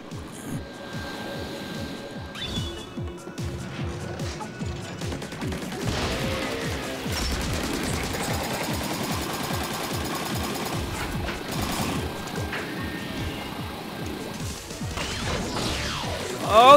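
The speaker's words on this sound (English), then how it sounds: "Oh, it's an ink vac." Ink vac weapon from the Splatoon 3 video game, heard as a continuous loud mechanical whirring and rattling with dense clattering bursts throughout, building at the end.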